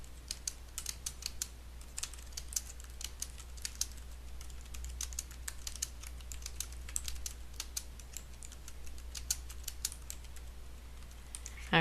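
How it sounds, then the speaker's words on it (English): Steady rapid keystrokes on a computer keyboard as HTML paragraph text is entered, crisp clicks close to the microphone in an uneven continuous patter over a faint low hum, with no talking. "I'll type some stuff in here."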